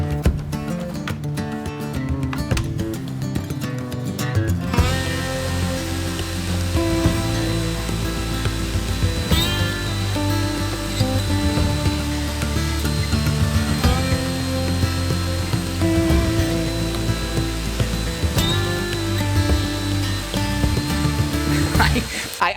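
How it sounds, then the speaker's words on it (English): Table saw cutting an MDF panel, a loud steady whine and rush of the blade running through the board after a brief start-up, continuing for about twenty seconds. "Now I'm going to cut an MDF panel on this guy"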